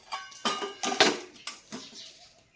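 A steel tiffin lunch box being packed with whole okra curry and rotis: a handful of distinct metallic clinks and clatters, close and moderately loud, spaced irregularly with short pauses between them and no talking.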